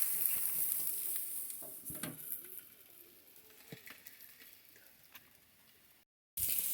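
Steak sizzling and frying near the edge of a grill, a steady faint crackle with a few soft clicks, alone without talk.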